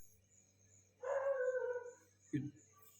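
A single dog barks twice at a distance, one drawn-out bark followed by a short sharp one, over a quiet low hum.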